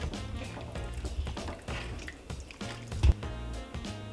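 A big pot of chili with sweet potatoes and bell peppers is stirred, producing soft wet squelching and gloopy drips in a slow irregular rhythm, close and fairly quiet.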